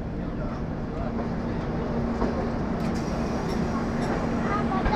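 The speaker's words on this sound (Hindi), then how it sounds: "और ये है लोकल ट्रेन जिसको हम मेमू बोलते हैं।" An Indian MEMU local electric train rumbles past at a station platform, a steady loud continuous roar with a faint tonal hum throughout and occasional clanks.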